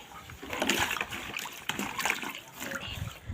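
A purple and green saree is washed by hand in water, giving faint, close splashes and sloshes that come in uneven bursts.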